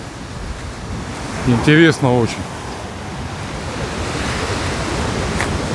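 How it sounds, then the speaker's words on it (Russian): Stormy sea surf washing onto a beach at Golubitskaya after a night storm, a continuous loud roar of waves with wind noise on the microphone, and a brief voice speaking partway through. "Сейчас у нас море такое, как океан, похоже."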